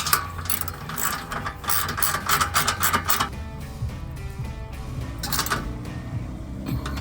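Ratchet wrench clicking rapidly as it tightens running board mounting bolts on a 2019-2024 Chevrolet Silverado 1500, a steady close run of metallic pawl clicks in bursts with brief pauses, no talking.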